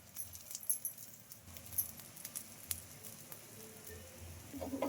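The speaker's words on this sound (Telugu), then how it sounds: "ఇలా ఆయిల్ అయితే అప్లై చేసుకోవాలి" An oiled dosa made from puffed rice and wheat rava batter sizzles faintly on a hot pan, a soft steady crackle with a few light pops and taps, close but quiet.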